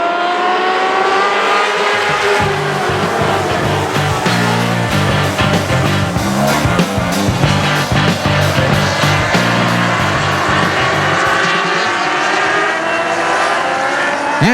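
A pack of dwarf cars roars away on the green flag at Central Texas Speedway, loud close engines revving and droning together for the whole stretch, with the pitch climbing and shifting as they race, no talk.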